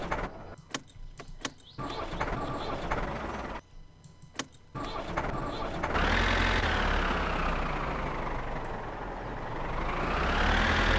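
Tractor engine in the video game My Summer Car, a few sharp clicks and starter bursts followed by the engine running steadily and loudly, rising in pitch as it revs, with no talk.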